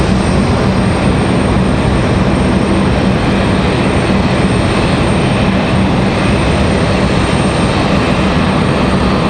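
A United Boeing 737-900 departs Raleigh Durham for Newark, its jet engines a constant, loud, broadband roar that holds steady throughout with no voices.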